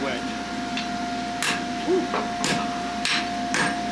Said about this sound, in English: the guy building the shoe, his speed on how he swings his hammer